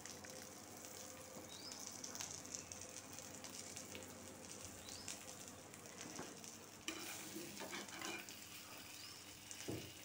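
Brinjal fries in a pan with a faint, steady sizzle and occasional crackles, quiet throughout with no talking.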